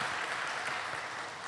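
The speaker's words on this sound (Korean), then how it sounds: "우리 찬양단 위해서 여러분 박수 한번 보내주시기 바랍니다" Congregation applause in a church during a special evening prayer service, a steady dense wash of clapping from many hands, fairly loud and continuous with no talk over it.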